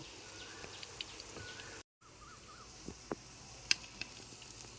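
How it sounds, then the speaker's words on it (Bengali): Flour-and-potato snacks fry in oil in a kadai with a soft, steady sizzle, broken by a brief pause and a few sharp crackles and pops toward the end; quiet, with no talking. "আর এক পাশটা উল্টিয়ে ভেজে তুলে নেব"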